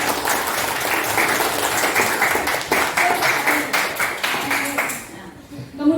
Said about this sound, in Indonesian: Tepuk tangan untuk jawabannya.